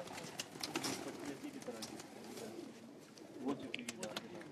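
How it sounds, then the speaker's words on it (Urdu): Rooftop pigeons coo softly in a loft setting, low murmuring calls repeating amid faint background chatter and someone speaking nearby. "بڑے اچھے کبوتر۔"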